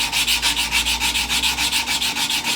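Sandpaper on a rubber backer is rubbed by hand across metal during polishing, giving a steady close rasping scrape in quick, even back-and-forth strokes with no voices.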